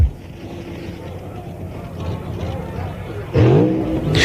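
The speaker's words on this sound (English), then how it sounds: "They pair up and blast down the asphalt strip." Nitro funny cars race down an asphalt drag strip at night. A distant engine roar builds under a narrator's voice, then a sudden loud blast of engine noise rips past near the end.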